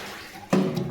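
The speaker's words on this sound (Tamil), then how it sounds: "ஒரு டம்ளர் தண்ணி ஊற்றிருக்கேன்" Water from a tumbler splashing into a pot of mutton biryani, a short close pour that starts abruptly and bubbles briefly, alone.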